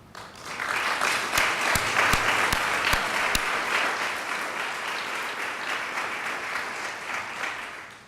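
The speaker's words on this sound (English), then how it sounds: "For this, you deserve our appreciation and our applause." Steady audience applause at a governor's bill-signing ceremony swells in and holds for several seconds, with a few sharp louder claps standing out early before it settles into an even wash.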